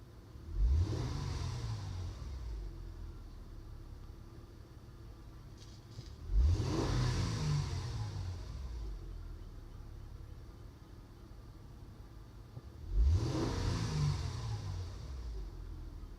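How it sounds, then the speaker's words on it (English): A car engine revs three times as the accelerator is pressed, each surge rising sharply and then settling back to a steady idle rumble between the presses. "I'm going to hit the accelerator."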